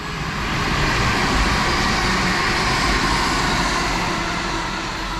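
A Class 323 electric multiple unit passing through a Manchester station, a steady broad loud rush of rolling noise and wind that holds evenly throughout with no voices.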